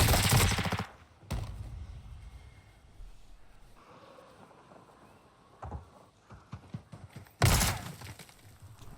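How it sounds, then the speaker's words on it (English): Short, loud bursts of automatic gunfire from a Warzone 2 gunfight open and close the stretch. Between them come quiet ambient rustling and a few soft thuds. "you hear a gunfight going down"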